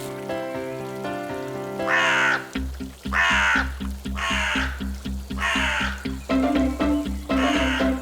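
Crows cawing in an animated fairy tale, with a series of about five loud, harsh caws spaced at regular intervals over a bouncy musical backing.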